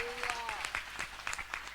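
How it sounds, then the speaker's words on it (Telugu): Church congregation clapping in praise during a Bethesda JPT revival meeting: a quick run of sharp, fairly distant claps under a voice that keeps talking. "చప్పట్లు కొట్టి స్తోత్రం చెల్లిద్దాం."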